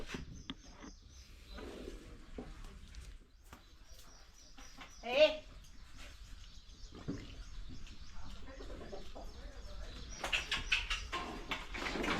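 Quiet farmyard sounds in an open cattle shed, with soft bird and chicken calls scattered throughout, faint voices nearby, and a brief louder squawk midway.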